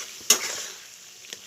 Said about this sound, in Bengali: এবার সব মশলাগুলোকে একটু কষিয়ে নেব